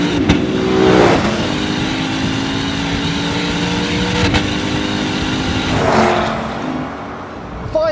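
A 2022 Lexus IS 500's five-litre naturally aspirated V8 revs up and down in several swells, its tone climbing and falling, loud and close, with a sharp bang partway through.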